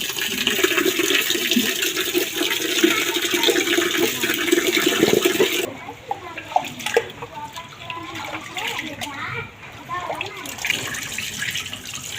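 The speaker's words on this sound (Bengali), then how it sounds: "এখন আমি কিন্তু চালগুলো ধুতে যাচ্ছি" Water runs steadily from a tap while rice is washed in a pot, a loud rushing flow that gives way to quieter sloshing and handling, with people talking.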